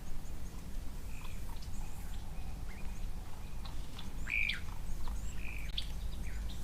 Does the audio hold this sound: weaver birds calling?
yes